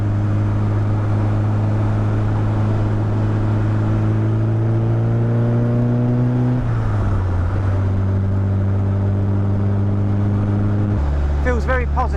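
The engine of an Indy RX-5 160 car hums steadily under load, its pitch climbing gradually, then dropping as the gear changes before building again, heard from inside the cabin alongside speech.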